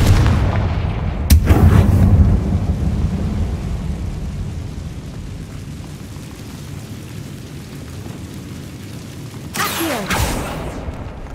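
A Confringo blasting spell in Hogwarts Legacy bursts with a sharp crack and rumbling boom, then fades into a low roar before a second explosive crack near the end.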